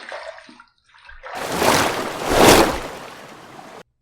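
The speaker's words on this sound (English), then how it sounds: "Let's rinse." An adjustable safety razor is rinsed under running water. A steady rushing stream swells and continues for about two and a half seconds, then stops abruptly.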